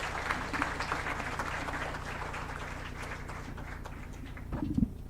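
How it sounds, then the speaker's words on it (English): Audience at a moot court competition prize distribution ceremony claps in a sustained, moderately loud patter, tapering near the end where a brief low thump or bump cuts in. "A huge round of applause for that achievement"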